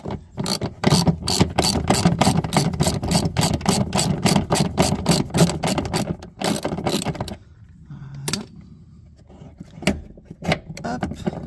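Ratchet wrench undoing the rear shock absorber bolts on a Citroën C3/C2 or Peugeot 1007: a rapid, loud clicking pawl for several seconds close up, then it stops and a few scattered clunks and clicks follow.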